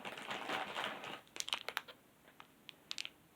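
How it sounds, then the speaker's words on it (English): Dice sit in a small cellophane bag that crinkles close up and quietly. First comes a soft rustling burst of about a second, then a scatter of sharp, brief crackles as the bag is handled. "They're in this little cellophane bag, so they crinkle."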